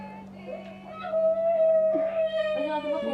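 A person imitates a cat's meow in a long, drawn-out wavering voice, rising and holding steady over a low constant hum, with faint background chatter at a family gathering.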